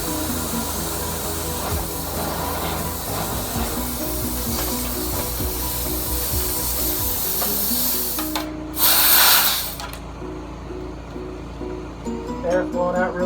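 Compressed air line blasting through flexible dryer vent duct, a steady loud rushing hiss throughout with a sharper, brighter burst of air near the end, no talking.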